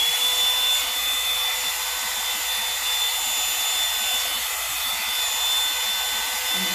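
A Revlon One-Step Volumizing hair dryer runs on its cool setting, giving a continuous, loud, close airy whoosh with a low motor hum that stays even throughout.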